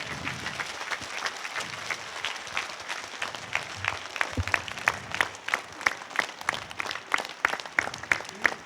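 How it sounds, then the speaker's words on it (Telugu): Crowd at a meditation event applauding, starting as a diffuse patter and building into strong, fairly synchronized clapping with a steady beat in the later seconds, alone without voices. "పత్రికారి కోసం చప్పట్లు కొడదాం."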